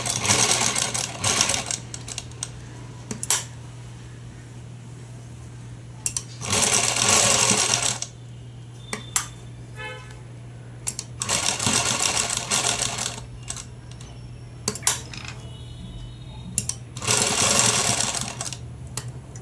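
Sewing machine stitching an old blouse, running in several bursts of rapid motor-driven stitching of one to two seconds each, separated by quiet pauses with a steady low hum underneath.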